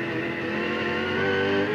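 V8 touring race cars at Calder Park Raceway in the 2000 Shell Championship roar past, a loud sustained engine drone with rising revs and no talk.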